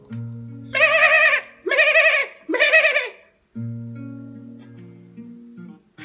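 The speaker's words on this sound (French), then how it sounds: "une chèvre ici, au milieu de nulle part, et du haut de ce baobab" A goat, in a remote spot near a baobab tree, gives three loud, close bleats in quick succession, each about a second long and wavering, over a quiet background with faint low hum.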